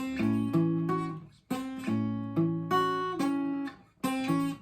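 A short plucked guitar melody, clean single notes and small chords ringing out in a gentle phrase with brief pauses between groups.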